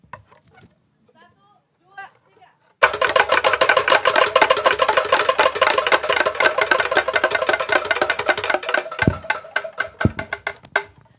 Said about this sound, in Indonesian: Kita tabuh kentongannya bersama-sama.